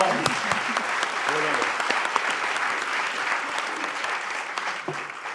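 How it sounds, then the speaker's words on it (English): Studio audience at a science comedy show bursts into steady applause after a correct quiz answer, dense clapping held throughout with a few voices calling out over it. "Give them a round of applause!"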